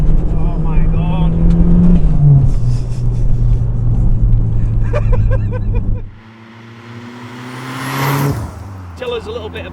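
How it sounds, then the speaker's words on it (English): A Saab 9000 2.3 engine fitted in an Astra van revs hard with a loud, droning rise in pitch, drops away sharply, then surges again as it revs back up. Voices can be heard faintly in the background. "The engine is a standard Saab 9000 engine."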